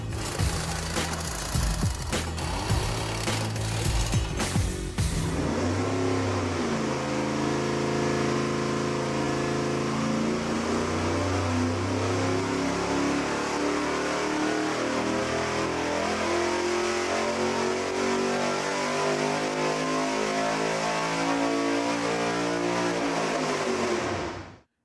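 A V8 performance engine on a dynamometer idles roughly at first, then revs up in a long, loud, sweeping pull to high RPM, the pitch climbing steadily before it cuts off abruptly at the end.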